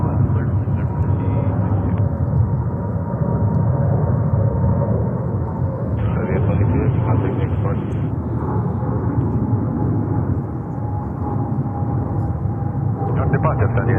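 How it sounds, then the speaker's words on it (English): A Boeing 777 airliner takes off at JFK airport in New York, its engines a loud, steady, broadband roar filling the whole stretch, with radio chatter and voices talking over it. "That 777 takes off"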